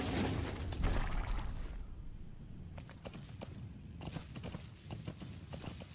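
Hooves of D-Horse in Metal Gear Solid 5 clip-clopping in a quick, steady rhythm at a gallop, faint and somewhat distant, with a louder burst of wind and motion at the start.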